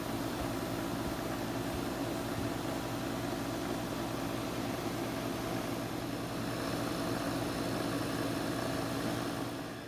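A wood lathe spins a fountain pen blank from a Rockler kit while it is sanded with 600-grit paper. The motor gives a steady, even whir with a continuous rough sanding hiss for the whole stretch.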